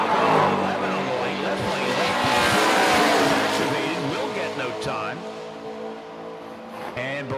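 A Mustang drag race car launches down the strip at a drag racing event, its loud engine roar swelling to a peak then fading as it pulls away into the distance, with an announcer talking over it.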